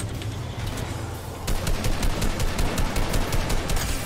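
Automatic gunfire in the video game Fortnite rattles in a rapid, steady burst of closely spaced shots that starts suddenly partway through and keeps going, loud and without talk.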